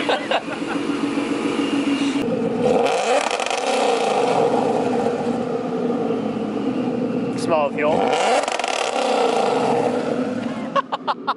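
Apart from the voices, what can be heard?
car engine revving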